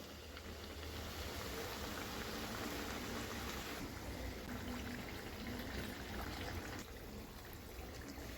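Bottle gourd garelu frying in hot oil, a soft, continuous hiss and bubbling that is quiet but constant, heard alone with no talking.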